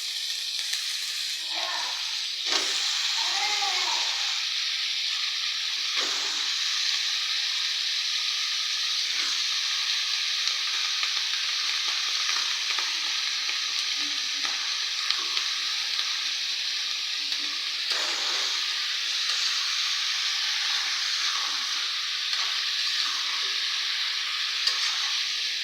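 Hilsa fish curry frying in a pan gives a loud, steady sizzling hiss that runs throughout, with a few soft stirring knocks near the start.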